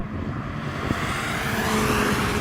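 A drag race between an AMG, a Volkswagen Golf, a BMW and an Audi RS3: a loud, continuous engine roar that holds steady and builds slightly, with no voices.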